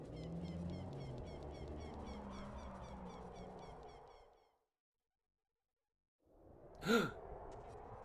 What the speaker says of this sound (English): it's weird to see Link audibly gasp